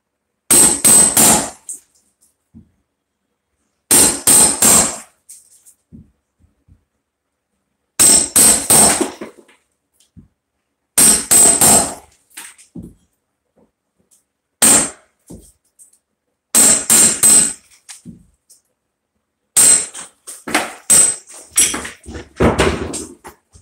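Repeated hammer strikes on building work, delivered in several separate bursts of rapid blows with pauses between, loud and close, followed by scattered clanks and knocks near the end.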